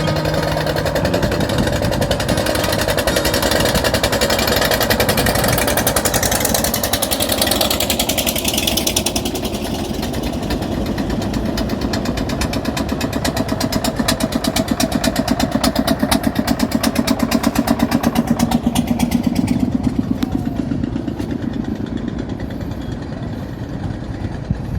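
A motorized river boat engine, the kind locally called bhotbhoti, runs with a loud continuous chugging drone as boats approach on a fast current. The sound is steady and close throughout.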